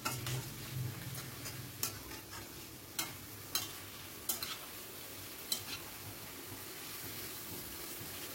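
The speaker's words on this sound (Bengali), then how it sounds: "নেড়ে নেড়ে মাংসটাকে ভালো করে কষিয়ে নেব।" Meat is stirred in a pan over a high gas flame: a soft, steady sizzle with spaced scrapes and taps of the spoon against the pan, about one each second or so.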